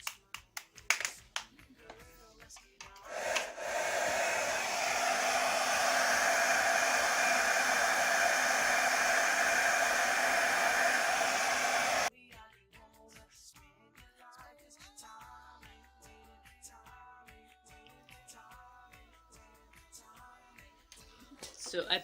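A handheld blow dryer heats shoes worn on the feet, a steady loud whooshing roar for about nine seconds that cuts off abruptly, framed by handling taps and a quiet voice.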